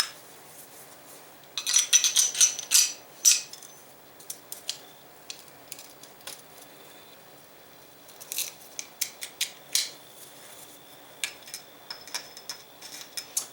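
Metal parts of a Sig Sauer P220 pistol being fitted back together, sharp close clicks and scraping snaps arriving in scattered bursts separated by quiet gaps.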